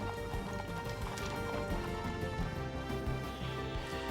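Icelandic horse hooves clip-clopping in a quick steady rhythm as the horse is ridden at the tölt through the countryside, moderately close and continuous.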